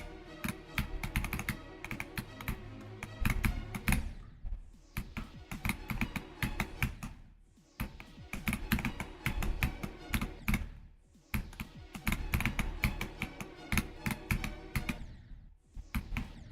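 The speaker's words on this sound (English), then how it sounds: "I thought this was a huge downgrade from the previous keyboard in terms of sound" Mechanical computer keyboard clacking steadily through rapid typing bursts, close and fairly loud, with a few short pauses between runs of keystrokes and no talking.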